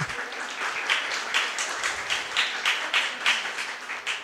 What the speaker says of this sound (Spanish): Le brindamos su aplauso,